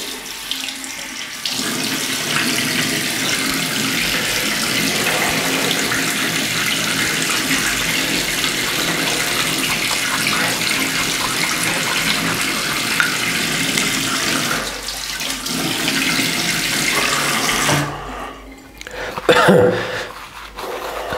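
Water gushes steadily from a bathroom tap into a sink while someone waits for it to run hot before shaving, a loud continuous stream that briefly breaks and then resumes near the end.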